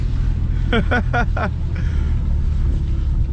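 Interior drone of an Infiniti G37 with a VVEL module fault, a steady low engine and road rumble throughout as the car drives in second gear, with a brief burst of talk early on.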